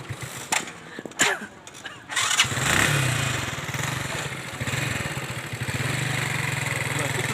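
A motorcycle engine starts after a few knocks and clunks, then settles into a steady, close, mid-pitched idle that runs on without a break.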